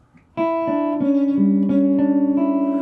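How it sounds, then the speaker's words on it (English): Guitar dominant eleventh chord strummed once then picked note by note, the tones ringing together into a sustained, slightly dissonant chord. "We avoid the dominant 11th chord because it sounds a little weird."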